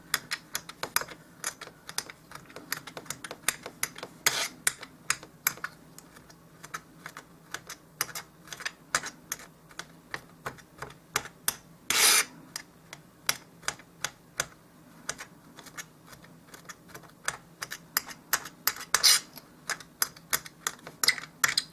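A knife chops and minces pot-sticker filling for doll-size dumplings on a board, producing quick, crisp, evenly spaced taps that run steadily and fairly close, with occasional louder knocks.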